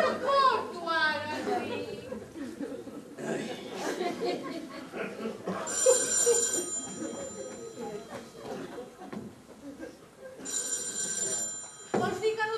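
An old-fashioned telephone bell rings in two bursts during an amateur stage play, heard over actors' talk and some audience chuckles, moderately loud and close.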